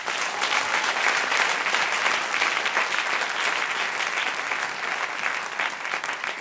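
A church congregation at a Sunday service claps in sustained, dense applause for about six seconds, steady and fairly even with no speech over it.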